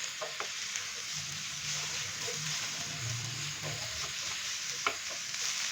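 Bell pepper, cabbage and tomato are stir-fried in a hot pan, a steady close sizzle with occasional scraping and stirring sounds throughout.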